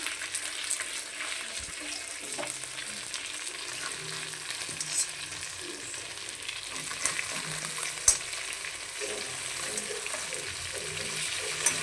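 Kain fish frying on low heat in a pan, a steady even sizzle running throughout with occasional light knocks and scrapes as it is turned.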